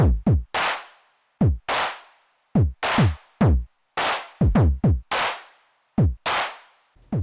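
Synth notes shaped by pitch bend through a Doepfer A190-2 module: a series of sharp, loud plucked tones, each sweeping downward in pitch, arriving in irregular bursts separated by short silences.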